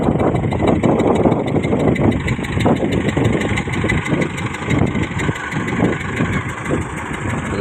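A tractor engine idles steadily at a washing spot, a continuous mid-level rumble with a regular throbbing pulse throughout.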